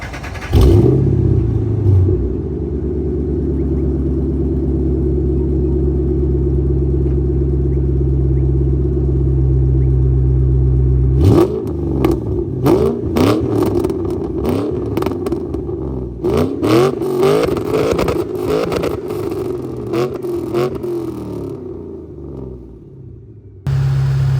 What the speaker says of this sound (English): I'm gonna give you guys the Mustang's exhaust clip.